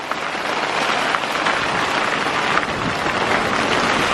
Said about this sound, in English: So here comes the rain.